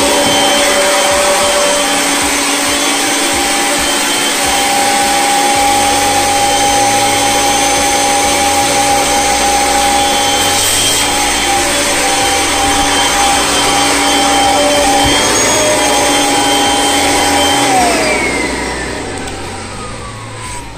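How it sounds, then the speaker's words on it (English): A vacuum cleaner fitted with extension wands runs steadily for about twenty seconds, a loud continuous motor whine with a low rumbling undertone, tapering off slightly near the end. "let's go ahead and power the vacuum on"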